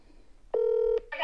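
A telephone call is placed, and a single steady electronic tone sounds for about half a second. A short burst of another tone follows right after it, close and clear, with no talking.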